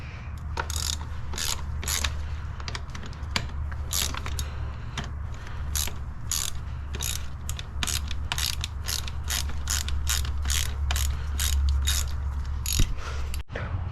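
Sharp repeated clicks of a ratchet wrench loosening 10mm bolts during a water pump replacement on a BMW B48 engine, a steady run of close metallic ticks over a low background hum.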